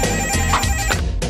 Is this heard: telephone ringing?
yes